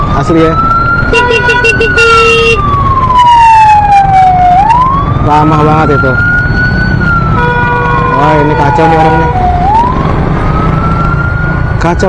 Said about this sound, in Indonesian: Ambulan udah pakai sirine masih nggak minggir